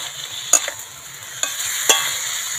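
Chicken pieces coated in spices are stirred in a frying pan for a mango chicken dish, giving a soft, steady sizzle with three brief, sharp scrapes of the spoon against the pan.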